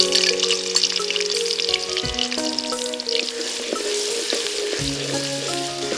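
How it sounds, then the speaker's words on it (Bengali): Onions fry in oil with a little ghee while browning in a pot for a traditional Chittagong dish, making a loud, continuous sizzle with occasional stirring and scraping. Brief tonal clinks sit over the frying. "হ্যাঁ, পেঁয়াজটা বাদামি করে ভাজতে হবে, অনেকটা পেঁয়াজ বেরেস্তার মতোই।"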